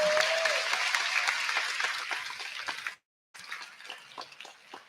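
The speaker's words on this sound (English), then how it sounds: "Now you can clap for all of them." Audience applause for parents at a school cook-off results ceremony, steady dense clapping that briefly cuts out, then resumes somewhat quieter.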